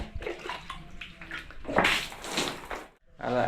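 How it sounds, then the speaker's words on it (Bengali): Water being poured and splashed onto freshly plastered house walls, irregular sloshing bursts with a short pause near the end before another splash. "প্লাস্টার করার পর হয়তো দুদিন আজকে নিয়ে জল দিচ্ছি"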